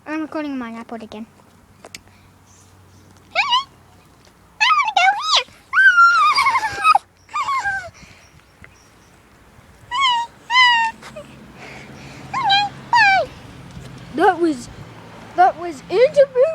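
A pet dog whimpers and yips in short, high, wavering bursts, close and fairly loud, scattered across a quiet indoor room.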